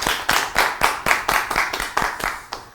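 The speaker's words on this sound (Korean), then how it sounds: "박수 한번 주세요" A small group of office staff claps in a quick, even rhythm, about a dozen crisp hand claps close by, loud and alone without talking.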